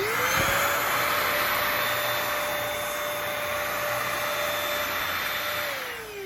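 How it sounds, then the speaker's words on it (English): Bissell 3-in-1 lightweight corded stick vacuum, model 2030, running steadily on a low pile rug, a loud continuous whine and airflow roar with a steady tone, close by and alone. "I ran this for about 8 to 10 minutes on that low pile rug here"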